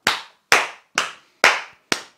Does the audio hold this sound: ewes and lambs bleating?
no